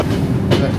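The Sagardari Express from Khulna to Rajshahi runs at speed, giving a brief, loud, close rumble of wheels on rails with a sharp clack near the end.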